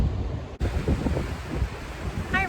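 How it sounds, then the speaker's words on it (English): Steady wind rushes and buffets a microphone outdoors at the Fuller Lake area, continuous and fairly loud, with a brief dropout partway through. "So yeah, it's a windy day."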